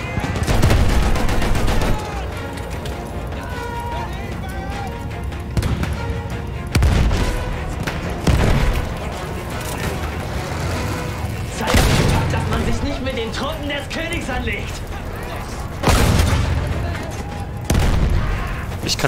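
Battlefield 1 combat with repeated bursts of gunfire and heavy explosions booming at intervals over a constant battle din, with someone talking throughout.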